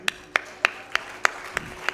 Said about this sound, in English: Let us give a round of applause as Kritika will be performing the last item